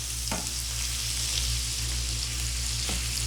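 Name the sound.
chopped Chinese garlic sautéing in a pan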